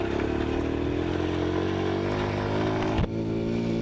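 A Honda Little Cub 50cc motorcycle being ridden, its small engine droning steadily up close with wind rush, then a brief dip in pitch near the end as the revs change.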